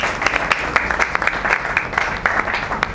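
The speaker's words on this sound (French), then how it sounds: "de pouvoir vraiment l'applaudir très très fort" An audience at a Congolese political party gathering applauds loudly, a dense, sustained burst of many hands clapping with sharper individual claps standing out near the front.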